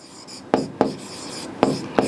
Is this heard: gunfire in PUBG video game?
no